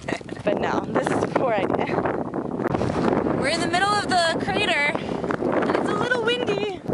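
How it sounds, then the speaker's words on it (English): Strong wind buffets the microphone with a steady roar inside a volcanic crater while people talk and laugh over it throughout. "so windy."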